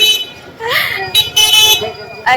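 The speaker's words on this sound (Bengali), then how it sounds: "হাই হর্ন মারতে মারতে আসছে" A vehicle horn honks loudly in repeated blasts, some short and some sustained, on a crowded market street in the morning, with a person talking over it.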